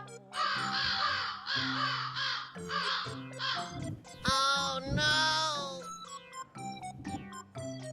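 Crows caw loudly in a run of repeated, harsh, drawn-out calls, several overlapping in quick bursts close by, with a voice talking between and over them.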